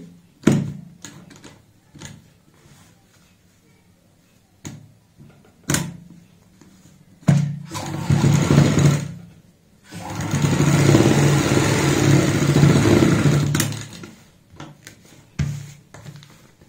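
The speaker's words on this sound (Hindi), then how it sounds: "ऐसे पलटते हुए ऊपर से सिलाई लगाएंगे" A sewing machine stitches capri fabric in several bursts, short runs at first and then a long steady whirring stretch, with clicks and pauses between, close and fairly loud with no talking.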